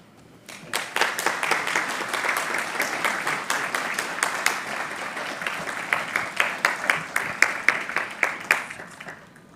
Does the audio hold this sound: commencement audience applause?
yes